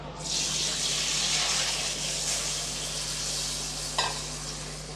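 Tamarind water poured into a pan of hot spluttered tempering for tamarind rice, a loud steady hiss and sizzle close up that carries on to the end, with a brief sharper splash near the end.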